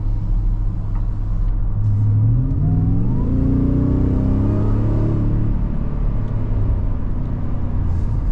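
Engine of a 2024 Ford F-150 Raptor R revving hard, with a loud, steady rumble that rises in pitch as the exhaust opens up and then settles, heard from inside the truck with no talk.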